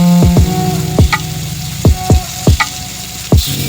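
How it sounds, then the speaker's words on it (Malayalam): Fish frying in a pan for a fish fry, a loud steady sizzle punctuated by several sharp spattering pops and clatters as pieces go in and are moved, no voices. "വറക്കാനുള്ള മീൻ ആദ്യം ചട്ടിയിലേക്ക് വെച്ച് കൊടുക്കാം"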